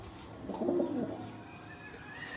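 A pigeon gives a short, close throaty coo in the middle of a brief stretch, with faint room noise before and after.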